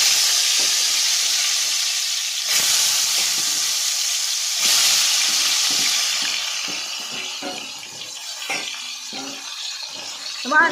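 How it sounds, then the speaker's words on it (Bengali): Pointed gourd (potol) dropped into hot oil in a karahi: a loud, bright hiss and sizzle that surges twice as pieces go in, then settles into crackling and spattering with scraping stirs. "তেলটা গরম হয়ে গেছে। এবার আমি এখানে পটলগুলো দিয়ে দিচ্ছি"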